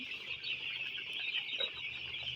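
Eight-day-old broiler chicks in a poultry shed chirp in a dense, continuous chorus of high peeps, moderately faint and steady with no talking.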